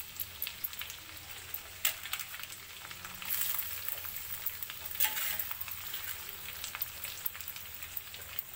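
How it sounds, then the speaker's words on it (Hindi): Chopped onion frying in a pan for a vegetable biryani, a faint continuous crackling sizzle with scattered pops, steady throughout and without any voices. "जो मेरे पास कटा हुआ प्याज था मैंने प्याज डाल दिया।"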